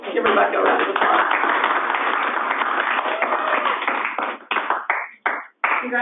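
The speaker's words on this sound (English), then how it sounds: "Give Rebecca a round of applause" Applause breaks out at a meeting, a dense round of clapping from a group that holds steady for about four seconds before tapering off into scattered claps.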